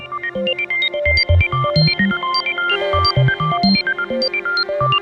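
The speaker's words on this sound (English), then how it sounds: "But just an amazing free reverb" Synth melody played through the Valhalla Supermassive reverb plugin, bright repeating notes over a low pulsing bass, each note trailing into a long, spacious, shimmering tail.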